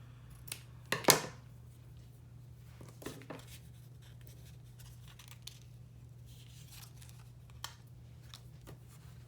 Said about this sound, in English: So let me get me some seam binding and just cut a little off.